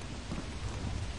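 Steady, dense rain hiss with low rumbling thunder filling the background in the video game Lethal Company, loud and continuous throughout a short stretch.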